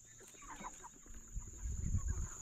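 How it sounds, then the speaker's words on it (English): Farm chickens near a valley home cluck softly in short, irregular bursts, moderately near and fairly quiet, with low rustling movement growing toward the end. "Here's some chickens."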